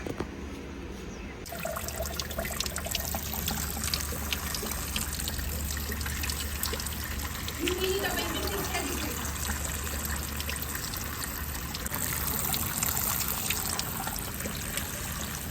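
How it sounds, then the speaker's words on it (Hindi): Grapes washed by hand under running water, a steady close trickle and splash of tap water with faint handling of the fruit, continuous throughout with a slightly louder stretch near the end and no talking. "अंगूर को अच्छे तरीके से धो लिया है"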